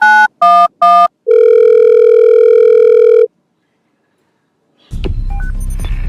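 Three quick touch-tone beeps, then a long steady dial tone that cuts off; after a pause, a muffled rustling noise follows.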